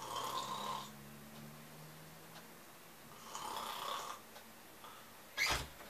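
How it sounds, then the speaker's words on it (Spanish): A grandmother snoring somewhere in the room, with slow rasping inhalations in a steady rhythm, fairly faint and moderately distant, followed by a short sharp snort near the end, with no talk. "mi abuela, que está ahí roncando"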